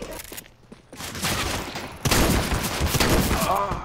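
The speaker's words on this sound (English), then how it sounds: "Shotgun!" Gunfire in Counter-Strike, with a shotgun blasting in dense bursts, loud and near, heavier in the second half, mixed with game noise and voices speaking briefly.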